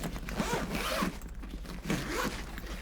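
A zipper is pulled open along the top of an HK Army Expand gear backpack in two long rasping strokes, close and fairly loud, with a brief pause between them.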